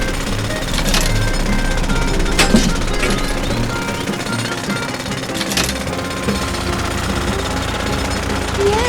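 A pencil drill bores through a water pipe in an animated scene. A loud continuous jackhammer-like rattling runs the whole time, with a few sharper bangs on top of the din.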